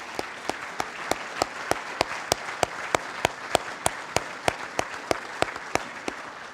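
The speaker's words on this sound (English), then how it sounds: "Let's give this formation a round of applause." An audience at a 2018 SDDC military change of command ceremony applauds the formation, with crisp claps falling in a quick, regular beat over a softer layer of scattered clapping, steady and moderately loud throughout.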